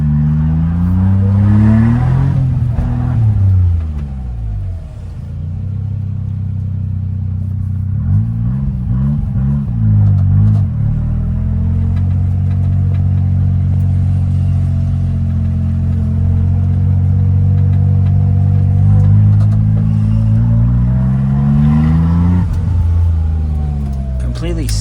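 A stock Suzuki Cappuccino, without air filter or blow-off valve, revs hard through repeated accelerations, its engine note rising and falling in loud rumbling sweeps from inside the car, with voices talking over it.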